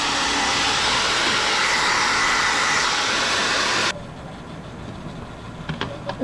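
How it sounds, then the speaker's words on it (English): A hair dryer heating a sticker to loosen it blows with a loud, steady whooshing roar, then cuts off abruptly, leaving faint background noise and a few light handling clicks. "The easiest way to take the sticker off is with a hair dryer"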